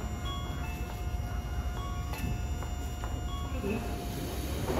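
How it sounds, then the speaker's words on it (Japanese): A six-car section semi-express train bound for Hikifune rumbles steadily into Kasukabe Station in Japan, a broad continuous roar close by, with a public-address voice speaking over the noise. "曳舟行きが6両編成で参ります"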